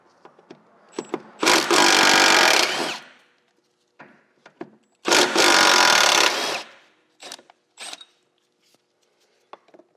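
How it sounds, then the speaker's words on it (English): On a Subaru canister mount, two 12mm bolts are spun out with a power tool in two loud, sustained whirring bursts, separated and followed by small metallic clicks and taps. "we can remove the two 12mm bolts here that hold the mount in place for this canister"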